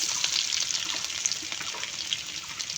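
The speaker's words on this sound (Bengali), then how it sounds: "রসুন দিয়ে দিয়েছি, একটু ভাজা ভাজা হবে।" Garlic frying in a pan on a home stove, a steady close sizzle with faint crackles running throughout, no voices.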